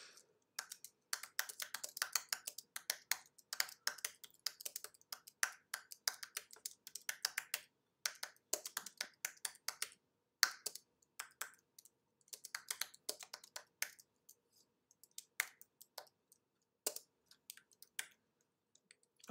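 Someone typing a question on a computer keyboard: quick, close bursts of crisp key clicks with short pauses between runs, fairly quiet with no talking.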